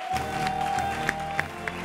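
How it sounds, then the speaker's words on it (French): A studio audience gives fairly faint, steady applause for a guest on a French-language talk show, with a few sharper claps and a thin tone under the noise. "Applaudissez pour Boris qui nous informe."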